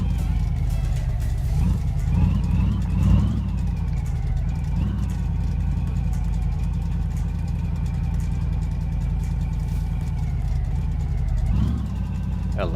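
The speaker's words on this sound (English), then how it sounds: "we've got a very leaky exhaust, so this is going to be a fun ride home." Car with a badly leaking exhaust driving in the video game My Garage, a steady engine drone with harmonic tones that shift gently as revs rise and fall, loud and continuous throughout.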